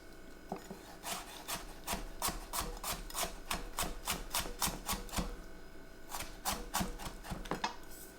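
A knife slices peeled ingredients into thin slices on a cutting board in a home kitchen, giving quick rhythmic close-up chopping taps in a steady run, a short pause, then another burst of cuts.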